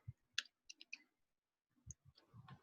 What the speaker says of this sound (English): That's why I'm just typing it out.